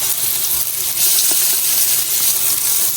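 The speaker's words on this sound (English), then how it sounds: "Side is all seared off." Two steaks seasoned with 7Plus Raijin Umami Yuzu sear in a pan, a steady loud hiss and crackle of sizzling fat with no one talking.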